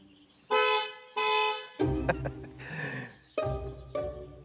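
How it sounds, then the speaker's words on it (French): A car horn honks several times in short bursts, loud and close, with a brief mechanical clatter in between. "Je peux klaxonner."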